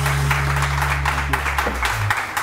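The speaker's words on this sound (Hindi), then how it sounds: "बहुत सारी तालियां दोनों।" Studio audience applause for a couple on a TV morning show, a steady wash of clapping over a low hum, with short bursts of rhythmic claps and a faint tone near the end.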